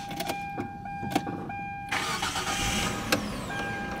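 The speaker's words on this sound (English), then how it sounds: "now we are going to start this car to test it for the functionality" A car with a freshly repaired drive-by-wire throttle body cranks and starts about halfway through, the quiet, ticking idle giving way to a loud, steady engine roar close by, with no talk.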